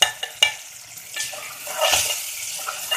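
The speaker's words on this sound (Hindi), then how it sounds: "अब हमारे टमाटर भून चुके हैं।" Chopped tomatoes frying in a pan for aloo paratha filling, a soft watery sizzle with scattered stirring scrapes and clicks, swelling briefly midway, no voices.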